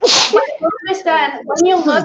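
A single sharp sneeze bursts out at the start, followed at once by someone speaking continuously in a conversational tone.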